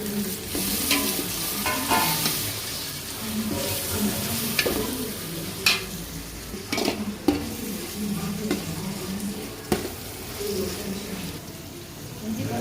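Tomatoes frying in a pan for chicken biryani, giving a dense, constant sizzle under repeated spatula stirs and occasional sharp clanks against the pan, near and fairly loud.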